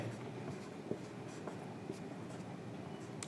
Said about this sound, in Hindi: तो यहाँ पर लिखते हैं